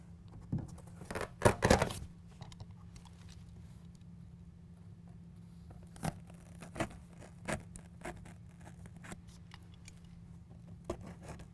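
A utility knife slices through a carpet-style BedRug Impact bed liner in a 2019 Ram 1500 truck bed, with a short burst of scraping cuts followed by a few sparse soft snicks over a low background hum.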